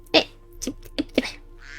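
A Minecraft duck quacks in a short series of about four quick, fairly faint calls with a low in-game hum underneath.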